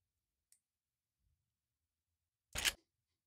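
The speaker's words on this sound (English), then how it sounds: "Now that we have the shotgun pump edited the way that we want" A single sharp mechanical clack-clack of a shotgun pump racking stands out loud and close after a quiet stretch with a faint earlier click.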